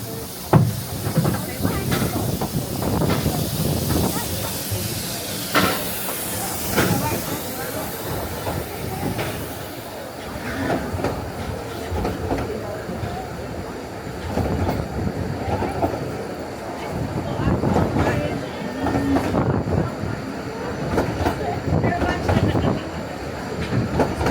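Vale of Rheidol narrow-gauge steam locomotive No. 8 near Devil's Bridge, its steady hiss and rolling carriage clatter going on for the whole stretch, with people talking nearby over the train noise.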